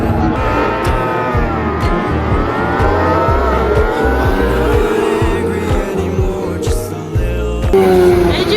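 Sidecar motorcycle race start, several engines revving hard and rising in pitch together as the machines pull away, loud and close, with sharp shifts and a brief squeal near the end.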